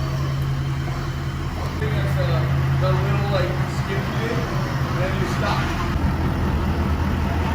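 A custom-built 6x6 truck with rear steer rolls out on its first test drive, its engine drone and low hum steady throughout beneath excited voices talking close by.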